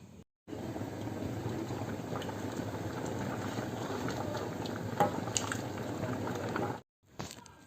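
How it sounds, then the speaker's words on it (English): A steady, close bubbling and rolling of water at a full boil in a large pot, with small pops and splashes, no voices over it. "I'm boiling water in a bigger pot for the final cooking of the rice. Now it's boiling."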